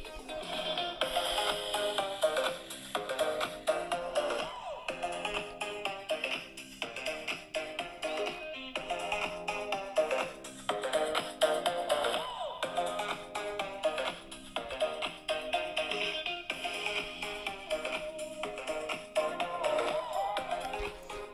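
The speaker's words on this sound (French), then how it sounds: "je vais prendre le micro et je vais faire le tour du téléphone pour que vous puissiez à peu près bien entendre le son" Music plays from the built-in speaker of a Doogee S Punk smartphone, dense and steady for about twenty seconds at an even moderate level, with no voices over it.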